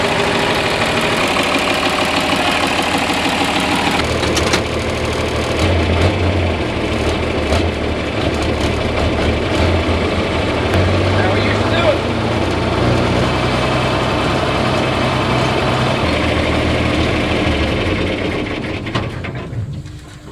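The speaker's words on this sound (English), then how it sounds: "we replaced the grain cart tractor" A grain cart tractor engine idles on a farm in hot weather, a steady rumbling drone with a slight knock, close and loud, running continuously before fading slightly at the end.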